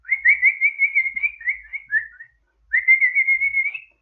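A person whistles in imitation of a bird call: two close, clear warbling phrases, the first about two seconds long, then a short pause before the second, with no speech.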